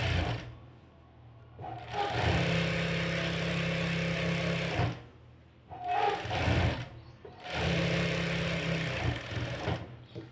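Sewing machine stitching a princess-cut blouse, three long steady runs of rapid stitching separated by brief pauses, close and clear.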